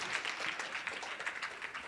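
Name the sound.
audience giving a thunder clap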